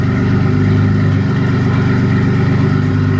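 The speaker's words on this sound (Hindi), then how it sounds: "कोल्ड स्टार्ट में आवाज बहुत ही क्रेजी आती है भाई" A BMW E36 M car engine runs loud and close after a cold start, holding a steady, throaty high idle with a deep, even pulse throughout.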